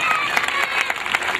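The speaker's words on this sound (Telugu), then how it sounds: "అందరూ చప్పట్లు కొట్టండి" A church congregation claps together in a quick, busy patter of many hands, loud and close, mixed with cheering and talking voices throughout.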